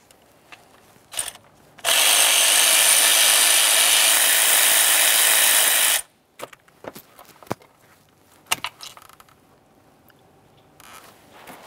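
A ratchet loosens the rear valve cover bolts along the back side of a 2007-2013 Acura MDX 3.7L V6, with a loud steady whirring run lasting about four seconds, framed by sparse nearby clicks, taps and handling noises.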